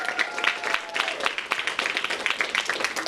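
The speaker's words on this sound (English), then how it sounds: "Let's give her a big round of applause" Audience applause for a staff advisor at a school food drive event, a moderate round of clapping from a room of people that keeps a lively, even rhythm throughout.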